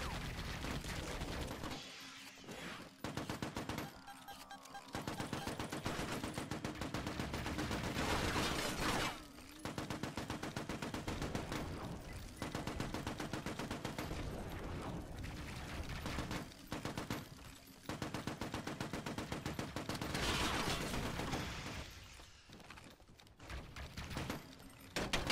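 Sustained rapid gunfire from the zombie shooter game Kill All Zombies, dense automatic bursts running almost continuously with brief gaps, loud and steady throughout.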